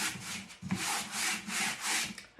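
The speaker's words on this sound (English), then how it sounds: "I'm going to use my brand new squeegee that came with this kit, and I'm using chalk paste for this project" A squeegee drags chalk paste across a flower stencil laid on a chalkboard surface, making close, rhythmic scraping strokes, about five even passes with brief gaps between them.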